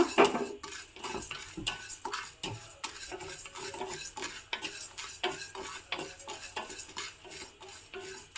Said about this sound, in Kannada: ಜೀರಿಗೆ ಇದನ್ನು ಚೆನ್ನಾಗಿ ಹುರ್ಕೋಬೇಕು